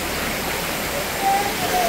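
Kondi waterfall roars as a steady, broad rush of falling water, heard nearby as constant noise. Faint voices and a brief high whistle-like tone sound over it near the end.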